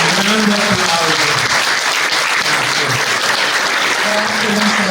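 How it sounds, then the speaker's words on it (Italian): A large audience applauds steadily at an outdoor mountain award ceremony, the Pelmo d'Oro, dense clapping filling the whole stretch at close range with a faint voice briefly heard beneath. "Un grande applauso."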